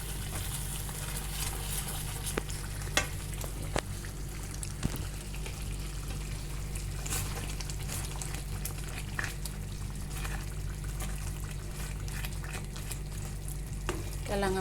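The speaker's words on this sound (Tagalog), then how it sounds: "Kailangan palang haluin para hindi magtutong. Haluin natin from time to time." Kinunot simmering in a pan for about forty minutes, a low steady bubbling and sizzle with occasional soft scrapes and clinks of stirring, faint and close.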